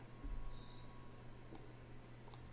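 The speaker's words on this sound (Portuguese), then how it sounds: "vamos dar um enter" Enter key pressed on a computer keyboard, one or two very faint, brief clicks in a quiet room with low steady hum, no talking.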